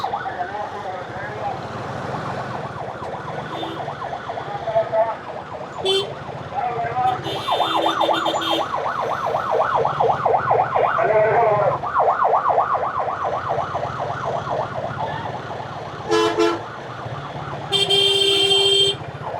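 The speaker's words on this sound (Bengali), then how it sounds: "এই যে একটা অ্যাম্বুলেন্স আটকে আছে" An ambulance siren wails while the vehicle sits stuck in a traffic jam on a road. The loud, repeating yelp rises and falls steadily over a low background of idling traffic, and short horn-like bursts break in near the end.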